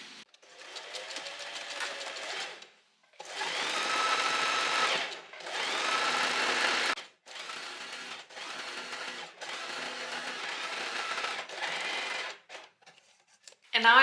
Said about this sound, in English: now again, we're gonna sew relatively close to the edge down here